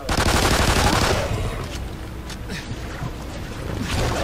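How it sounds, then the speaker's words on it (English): Rapid turret gunfire in the video game MAYDAY Extinction comes as a loud burst of dense fire that fades out and then builds again near the end, with voices mixed in. "I'm getting owned by that fucking turret, dude."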